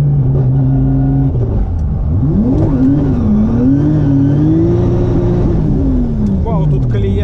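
VAZ 2104 car driving off and accelerating, engine hum rising and falling in pitch through gear changes, steady and close, heard from inside the car.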